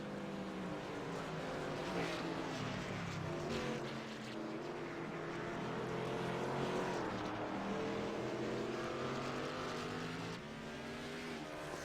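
Simulated race cars in iRacing at Sonoma Raceway scream through a corner, several engines layered together with rising and falling pitch as the cars shift and jostle, held at a steady moderate level throughout.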